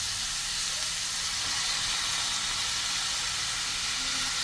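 Vegetables, green beans and carrots among them, sizzle in a pan with ground pork for lumpia filling, making a loud, steady hiss that continues without a break.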